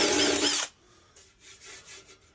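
A power drill with a step drill bit whirs briefly and loudly while cutting a hole in a tractor wheel, then stops, leaving a few quiet clicks and scraping sounds nearby.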